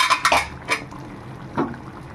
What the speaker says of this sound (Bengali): ঢাকনাটা তুলে দেখে নেব কেমন হয়েছে